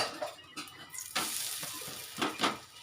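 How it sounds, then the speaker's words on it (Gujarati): A thin gram flour pancake (pudla) fries in oil on a pan, with a soft sizzle broken by sharper bursts of crackling and spatula scraping nearby, and no speech. "એના પર તેલ નાખીશું તેલ નાખી અને સરસ આપણે પલટાવી દેવાનું છે"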